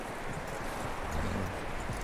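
Horse hooves clip-clopping in the Red Dead Redemption 2 video game, a close, steady run of soft rhythmic hoof beats over continuous background ambience, with no talk.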